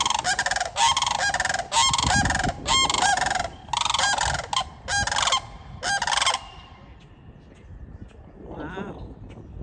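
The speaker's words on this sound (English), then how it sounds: "We've got some angry birds." Wild geese honk loudly and repeatedly in a dense, agitated chorus near a springtime plein air painting spot, the bursts stopping abruptly around six seconds, followed by quieter calls and a brief voice near the end.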